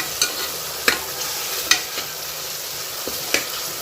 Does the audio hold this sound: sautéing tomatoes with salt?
yes